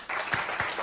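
A short burst of clapping plays back from a recorded clip, with a few distinct sharp claps over a steady wash of applause-like noise, brief and moderately quiet.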